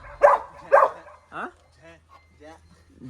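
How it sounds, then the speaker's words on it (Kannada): A pet dog barks twice in quick succession up close, followed by softer yips and whimpering sounds, with a faint low hum running underneath. "ಇದು ನಮ್ಮ ಅಭಿಷೇಕ್ ಮನೆ ನಾಯಿ ಜಾಯ್."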